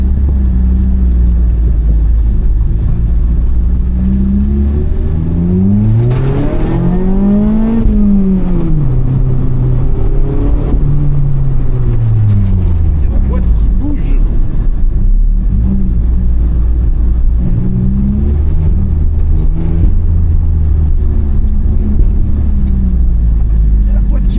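A 2019 Mazda ND Miata accelerates close by, its engine note climbing and falling in several distinct sweeps over a steady low road rumble.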